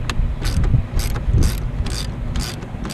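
A ratchet turns a long 10mm socket on an inlet bolt of a BMW F30 in repeated short clicking bursts, each pull a rapid ratcheting rattle, close and fairly loud.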